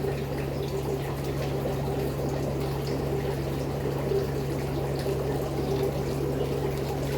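Water is scooped and poured from a fish tank while fish are moved, giving a steady liquid swish and trickle over a constant low pump hum, fairly loud and continuous with no talking.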